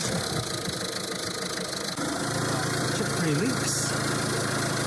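A Peugeot Partner van engine idles steadily after an oil change, a constant rumbling drone that runs the whole time while someone talks briefly nearby.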